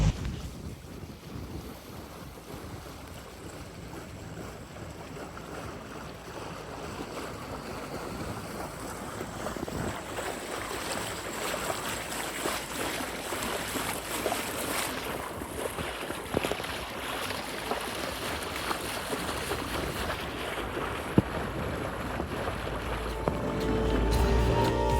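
Sailboat running under genoa with the engine on, near Conwy and Puffin Island: steady wind buffeting the microphone, rushing water and a low engine hum, continuous and fairly loud throughout.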